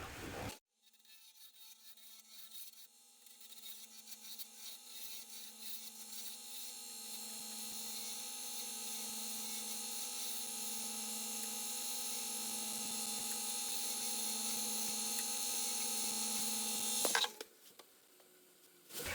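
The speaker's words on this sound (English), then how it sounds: "As you can see, the actual turning process doesn't take very long at all." Wood lathe spinning a pen blank while a roughing gouge cuts it, a steady high-pitched whine and hiss that builds slightly in loudness for about sixteen seconds, then stops abruptly, with no talking.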